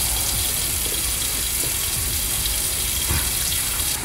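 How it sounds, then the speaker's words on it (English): Tap water gushes steadily into the top reservoir of a ZeroWater 5-stage filter pitcher, a loud continuous rushing pour with no pauses. "you can definitely fill the water inside."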